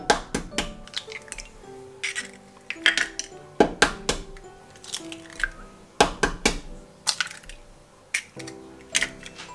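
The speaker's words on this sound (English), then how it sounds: "Into this dish, I'm going to add 4 eggs." Four eggs cracked one after another into a dish for Chinese-style steamed egg: a close series of sharp taps and clinks against the dish in irregular clusters, with no talking.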